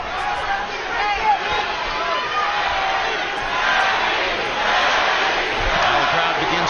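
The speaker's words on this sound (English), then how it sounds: "Now the crowd begins to chant Manny, Manny." Boxing arena crowd at a Pacquiao vs Bradley fight chanting Manny, a loud rhythmic roar of many voices with rising swells, under close commentary talk.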